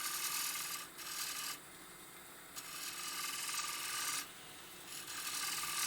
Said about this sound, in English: using the edge of the ball gouge to scrape a bit of wood on the outside